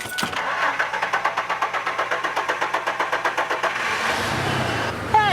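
A car engine cranks with a rapid rhythmic chugging from the starter, then catches and settles into a steady idle after the loose oxygen sensor on the exhaust manifold is tightened; loud and close.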